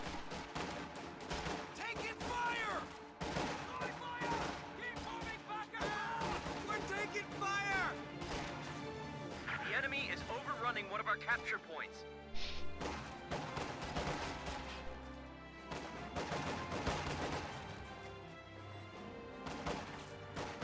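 Infantry volley fire in a wargame: repeated crashing bursts of gunfire and impacts scattered through a busy battle soundscape, mostly under steady commentary from a talking voice.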